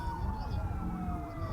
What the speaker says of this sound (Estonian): Kiirabi tuleb juba tõenäoliselt.